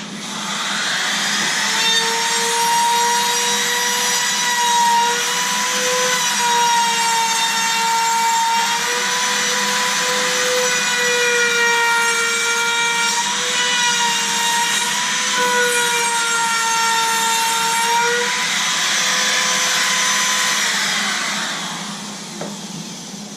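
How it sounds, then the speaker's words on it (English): A cutter runs steadily for about twenty seconds while trimming thin wood veneer flush along a tabletop edge, a loud continuous whining buzz with a sustained tonal pitch that winds down at the end. "little bit of cutter sticking out, just enough to cut the veneer"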